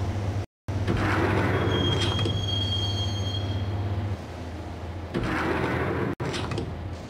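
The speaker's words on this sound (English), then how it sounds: "the train doors had already shut behind me, and I was in for the ride" A train ride in the video game Max Payne: steady rolling rumble with a sustained wheel squeal whine, a brief cut and bursts of clattering rail noise, loud and continuous without talking.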